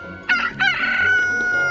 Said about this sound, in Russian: Вот он и кукарекает с утра пораньше.